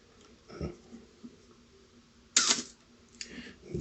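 A 1981 Canon AE-1 Program 35mm SLR with the shutter cough fault fires a few times, each release a short, loud mechanical clack with a rough, squeaky edge, separated by quiet pauses.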